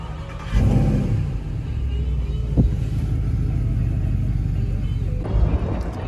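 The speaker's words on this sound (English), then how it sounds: "Going out for a quick drive in some of my parents' cars today." A car engine catches and settles into a steady low rumble, close and loud, with a brief rise in revs near the end as it pulls away.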